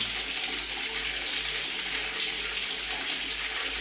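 Water gushes steadily from an open bathroom pipe during a shower room plumbing repair, a loud, continuous rushing stream with no voices.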